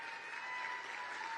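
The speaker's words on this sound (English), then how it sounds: "Those are the guys who need the applause." An audience applauds in a room, a steady sustained clapping wash that stays even throughout, moderately loud with no voices over it.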